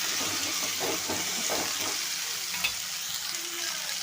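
Long drumstick pieces are stirred into a fish curry of kelluthi fish as it fries in the pan, a close, constant sizzle with scraping spoon strokes in the first half, then quieter sputtering.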